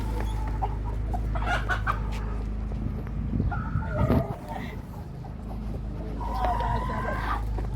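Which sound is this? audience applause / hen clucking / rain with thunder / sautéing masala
hen clucking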